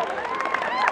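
A convention panel audience claps and cheers in a brief, dense burst, with a voice talking over the crowd noise.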